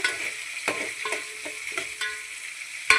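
Fish curry masala frying in a pan with green chillies, a faint steady sizzle broken by several light taps and scrapes of a stirring spoon.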